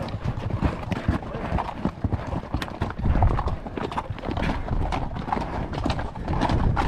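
Steady clip-clop of horse hooves, a fast continuous rhythm of hoofbeats close by, with a short whinny somewhere in the mix.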